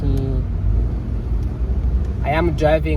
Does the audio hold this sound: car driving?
yes